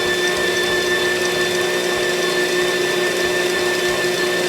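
An electric mixer whirs steadily as it blends sweet potato pie filling, a loud, constant motor drone close by with no talking.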